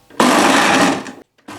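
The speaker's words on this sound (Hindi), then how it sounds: "अब हम ग्राइंड कर लेते हैं।" Electric grinder blending chopped onions and seeded tomatoes with water for a chicken salan, a loud steady whirring roar for about a second that cuts off, then briefly starts again.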